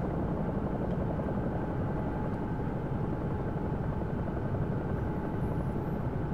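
A Bell 222 helicopter flying in the X-Plane 11 simulator as a Scottish air ambulance near Aberdeen, a steady, loud rotor and turbine drone that holds unchanged throughout with no voices.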